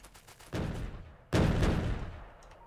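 Two heavy booming artillery shots from the video game Factorio, the first at about half a second and a louder second near 1.3 s, each with a long rumbling decay and no talk.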